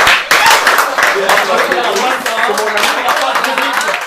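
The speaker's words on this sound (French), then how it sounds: "L'applaudissez très fort" Loud applause from a celebration crowd for Francis Mouton, many hands clapping densely and steadily, with voices talking and calling out over the clapping.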